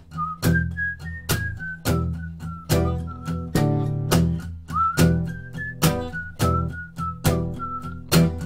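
A person whistles a bouncy tune over rhythmic, percussive strummed chords, the melody weaving between sharp muted hits in a steady beat.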